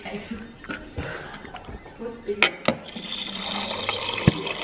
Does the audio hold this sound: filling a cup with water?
yes